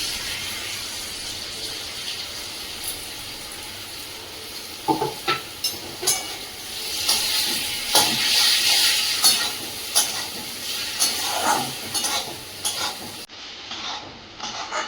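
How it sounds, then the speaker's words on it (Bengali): Spice paste sautés in a pan with a low background sizzle, broken by repeated scraping and stirring clatters of a spatula against the metal, growing busier in the second half before cutting off near the end. "মশলাটা তো কষতে বসিয়ে দিচ্ছি, এটা কষা হোক,"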